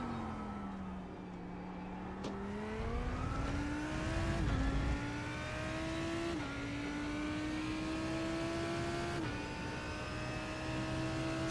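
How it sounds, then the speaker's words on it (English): A Lamborghini race car engine in the iRacing video game drones steadily and loudly, its pitch climbing through the gears with brief dips at each shift, heard from inside the cockpit with no talking. "This car sounds great."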